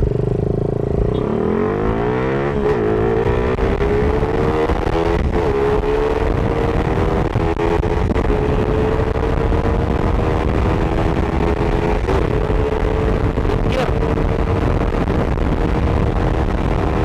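The engine of a Yamaha STX jet ski under restoration runs continuously and loud, revving and rising in pitch as it accelerates, then holding a steady, gritty drone throughout.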